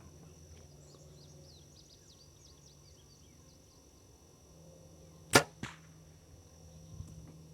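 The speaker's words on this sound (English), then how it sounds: "just knock another arrow and send it downrange." An arrow shot from a bow sends a sharp, loud snap and whoosh downrange, followed moments later by a second fainter thud, with faint bird chirps in an otherwise quiet outdoor range.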